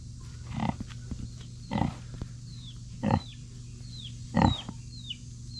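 A sow pig on a farm gives four separate low grunts spaced about a second apart, moderately close and alone over a steady background hum.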